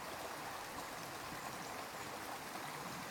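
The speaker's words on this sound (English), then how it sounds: "This gentle hum includes sounds like steady rain, rustling leaves, and the soothing flow of a river." Steady broadband rushing like flowing river water or rain mixed with soft rustle, constant and even throughout with no pauses, moderately loud and alone.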